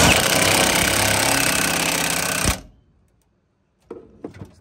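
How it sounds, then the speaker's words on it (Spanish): A power tool tightens an engine mount bolt on a Chevrolet Silverado 1500, a loud continuous whirring run that stops abruptly, followed by a few faint metallic clinks. "Vamos a apretar el otro tornillo, este que está de este lado, con la misma operación,"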